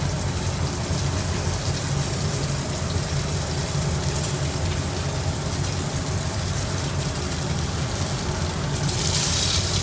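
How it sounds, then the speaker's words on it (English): Salmon browns in a sauté pan, giving a steady, dense sizzle that holds evenly for the whole stretch, close and fairly loud with no talking. "all I'm going to do is brown both sides in the saute pan"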